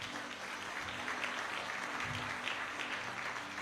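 Congregation in a church applauding steadily for a few seconds, a dense, even patter of many hands at moderate distance with no speech over it.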